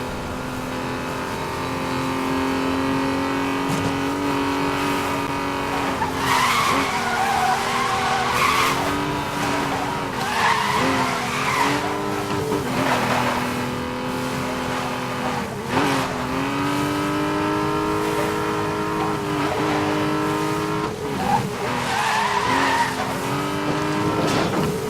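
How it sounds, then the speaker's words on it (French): Aston Martin V12 Vantage driving with repeated tire squeals, sliding tones that rise and fall over an engine note and recur every few seconds throughout. "Donc voilà la petite Aston Martin V12 Vantage."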